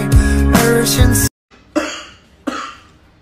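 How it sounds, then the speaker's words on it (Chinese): A man's coughing, a couple of sharp bursts each trailing off, heard close after a loud stretch of background music cuts out in a comic home scene. "你咳嗽呢？"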